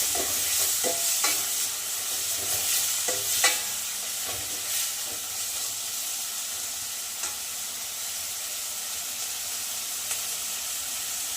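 Ginger-chili-garlic paste sautéing in a hot pan sizzles steadily and hisses, with repeated sharp spatula scrapes and taps in the first few seconds, then a more even fry with occasional single stirs.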